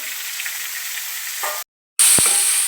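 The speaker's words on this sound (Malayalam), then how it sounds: "നല്ലോണം വഴറ്റി കൊടുക്കണം ഒരു മൂന്ന് സവാളയും രണ്ട് പച്ചമുളകും കൂടെ ഇട്ട് കൊടുത്തിട്ടുണ്ട്" Three onions and two green chilies sauté in a pan for a vegetable samosa filling, giving a steady close sizzle with a brief stir, then a short break before the frying resumes.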